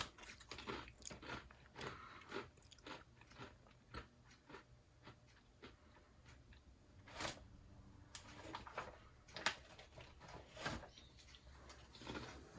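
Stale sesame oil potato chips crunched and chewed close up in a series of crisp, irregular bites, with brief pauses between mouthfuls.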